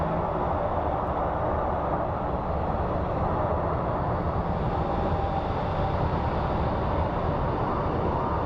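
Jet airliner landing at Phoenix Sky Harbor airport, a steady broadband roar of engines and rushing air that holds loud and even throughout without pause.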